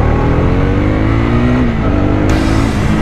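A small motorcycle engine revving hard as the throttle is twisted, loud and close, a rising, steady roar that climbs in pitch, alone with no talking.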